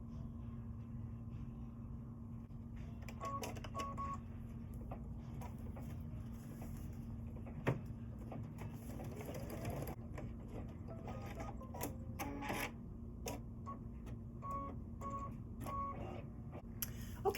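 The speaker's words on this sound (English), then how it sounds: "we're going to be stitching the satin stitch around the background fabric" Embroidery machine sewing a satin stitch around background fabric, a low steady mechanical hum with quiet rapid ticking and scattered clicks, continuous and close throughout, no voices.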